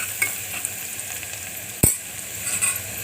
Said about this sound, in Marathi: छान परतून घ्यायचं। तर कांदा आपला मस्तपैकी लाल होत आलाय